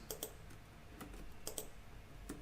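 Typing on a computer keyboard, a handful of faint, close key clicks in irregular bursts and single taps against a quiet room.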